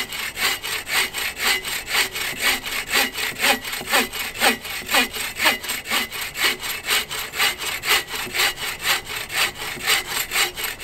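A folding frame saw cuts through wood in steady back-and-forth strokes, each rasping pass loud and close, with an even rhythm of about two strokes per second throughout.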